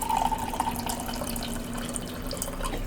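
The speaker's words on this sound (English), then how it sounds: "I'm pouring coffee, and I apologize if the microphone caught that" Coffee is poured into a cup at a desk, a close, steady liquid stream with a faint ringing tone, loudest at the start and then running evenly.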